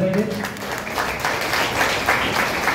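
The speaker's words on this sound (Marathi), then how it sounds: "यश मानेसाठी जोरदार टाळ्या झाल्या पाहिजे" An audience at a Marathi YouTube training event applauds for Yash Mane, a moderate wash of clapping from many hands that is partly mixed with voices throughout the brief stretch.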